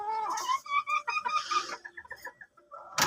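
Modern game bantam chickens cluck and squawk close by in short, choppy bursts, ending with a sharper cry.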